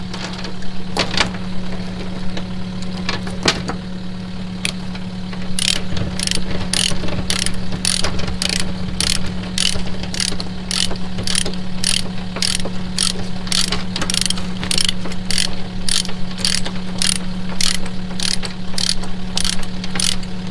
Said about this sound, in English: if you're using these ratchet binders